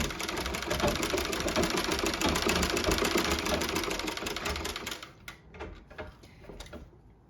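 An 1879 Singer Improved Family sewing machine stitches in a steady clattering rhythm for about five seconds, then slows and ends in a few separate mechanical clicks and knocks, with no talk.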